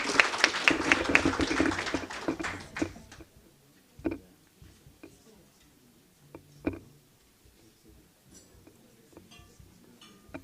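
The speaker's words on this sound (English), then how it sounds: "Let's give them another round of applause." Applause at a teachers' union merit awards gala dinner fades from a dense burst of clapping into scattered, sparse claps and a few clinks in a quiet room.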